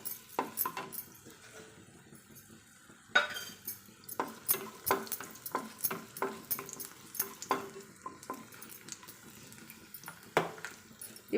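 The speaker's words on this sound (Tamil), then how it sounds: "இப்போ நம்ம திராட்சையும் இதில் போட்டு வறுத்துக்கலாம்." Raisins frying alongside cashews in a pan for jackfruit kesari, with sharp irregular scrapes and clinks of a spoon stirring against the metal over a soft sizzle, repeated every second or so.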